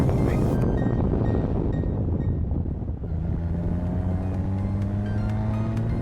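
Formula single-seater race car at full throttle around the Stowe circuit at Silverstone, a loud continuous engine roar with rising pitch sweeps as it accelerates through gears, heavy wind buffeting over it, briefly dipping near the middle.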